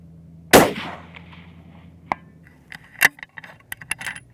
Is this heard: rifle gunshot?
yes